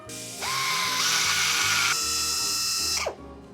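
A machine tapping threads into drilled holes held in a fixture, its high whining motor holding steady for several seconds, shifting pitch partway through, then spinning down abruptly, loud and close.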